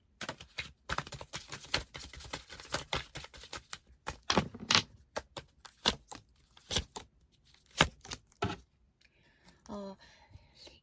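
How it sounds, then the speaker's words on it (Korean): Tarot message cards being drawn and shuffled, giving a rapid run of crisp, close card clicks and flicks with brief pauses, fairly quiet and with no talking. "메시지 카드 뽑아볼게요"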